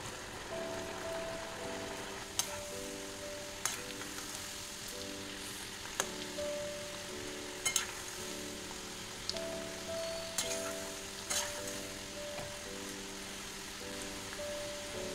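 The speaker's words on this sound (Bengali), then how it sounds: "এটা হাই টু মিডিয়ামে ভাজবো আমি, মুচমুচে করে" Snacks deep fry in hot refined oil, a steady fine sizzle under a quiet melodic background, broken by a few sharp crackles and taps spaced several seconds apart.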